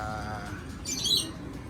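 Racing pigeons at a rooftop loft give a short burst of chirping calls over steady low background hum, moderately near.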